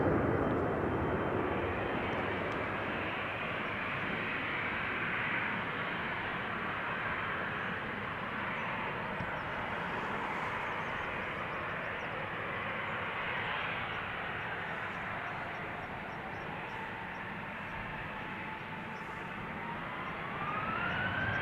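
An airplane departs from runway 36L at Amsterdam Schiphol Airport and climbs steeply, its engine roar loud and continuous throughout before easing slightly and swelling again, with no talk.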